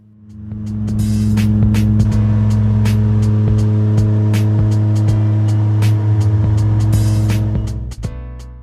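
A small airplane engine drones steadily in flight just after takeoff, climbing out over suburbs toward King Island; a loud, continuous, even hum with a low, throbbing tone holds throughout.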